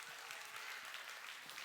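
Children at a Friday Holy Spirit kids' worship gathering clap together in a brief, faint, even patter of applause with no voices over it.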